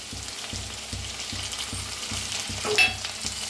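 Chopped onion and tomato fry and sizzle steadily in a pan, with a spatula scraping and stirring in a regular rhythm of about two strokes per second and a brief clink near the end; no voices.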